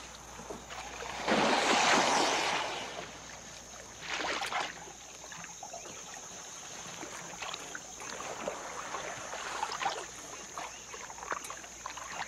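Canoe paddling in the Okefenokee Swamp produces a soft, close water swish and splash with a stronger stroke early on, then gentler intermittent dips over a quiet background hum.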